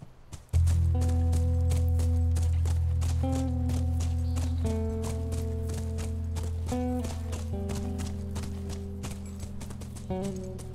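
Horse hooves clip-clop steadily in The Last of Us Remastered, a close, even trot running continuously for about ten seconds over low in-game ambience with no talking.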